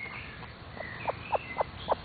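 A chicken gives four or five short, evenly spaced clucks, fairly close, rising slightly in loudness over about two seconds against a quiet background.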